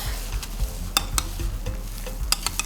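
Banana frying in a pan, stirred with a spoon: steady close sizzle with a few sharp scrapes and clinks of the spoon against the pan.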